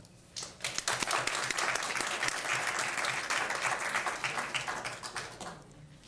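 An indoor audience breaks into sustained applause to welcome a speaker at an evening talk on stress reduction. Dense clapping swells within half a second, holds steady for about five seconds, then tapers off.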